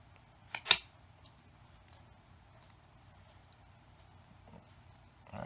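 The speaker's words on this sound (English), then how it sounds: "You're going to dial your rotary punch to your rivet size. And you're going to punch through both." A rotary punch bites through layered leather for armor buckle straps, giving two sharp close snaps in quick succession, then near silence with a faint later click.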